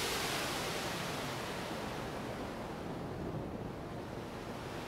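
Synthesized ocean waves from an Alt analog soundscape synthesizer: a steady, loud broadband wash of surf-like hiss with gentle swells and no voices.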